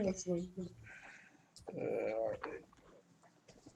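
A pet dog gives a few short, whimpering yelps close by, mixed with brief stretches of someone talking.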